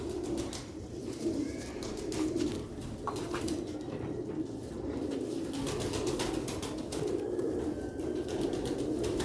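Domestic pigeons coo softly and repeatedly in a loft where they are kept for sale, a low rolling murmur from several birds over a steady rustle of feathers and movement.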